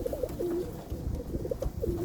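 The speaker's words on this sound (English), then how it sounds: "Very beautiful birds here." Pigeons at a young bird show coo repeatedly in soft, throaty rolling calls, several birds close by, with a low busy hall murmur underneath.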